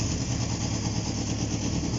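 A Honda CB750 motorcycle engine, freshly revived with messy wiring and no throttle cables, runs at a steady rough idle with a dense low rumble and vibration, close up and alone.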